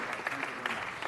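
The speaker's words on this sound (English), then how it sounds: "Let's give them a round of applause." Applause from an audience at a city council meeting, a short dense patter of clapping with a voice faintly mixed in.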